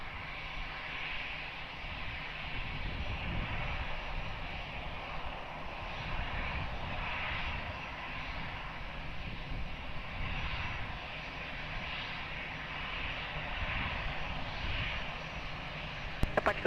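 An Air Portugal airliner rolling for takeoff on runway 20 at Lisbon Airport, its engines a steady, distant roar with a broad airy hiss that holds level for the whole stretch, heard alone without talk.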